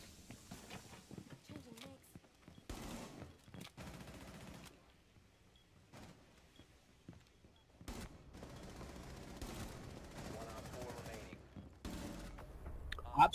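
Gunfire in Rainbow Six Siege, scattered bursts and single shots at moderate distance, intermittent over quiet gaps, with faint voices talking between shots.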